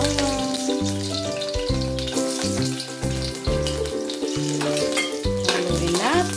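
Minced garlic hits hot oil in a heated wok for a sweet potato tops and sardines dish, a steady sizzle running under loud melodic background music for the whole stretch.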